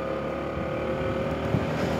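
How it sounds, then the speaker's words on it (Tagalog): Motorcycle engine laboring up a very steep mountain road on the Sagada Loop in Benguet, a steady droning hum with wind buffeting the microphone, continuous and fairly close, without voices. "hindi pwede mahina-hina dito yung makina."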